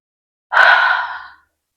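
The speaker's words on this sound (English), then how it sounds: "Breathe in." A single audible inhale during a Fa'arapu dance warm-up, a breathy rush close to the mic lasting just under a second, isolated in silence.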